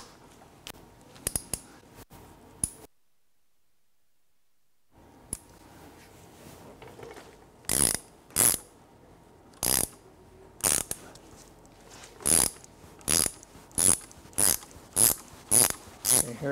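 A hand ratchet cranks a puller tool to draw the front crank seal race off an older Mercedes engine, sharp close clicking strokes in bursts, first sparse then a rapid steady series near the end.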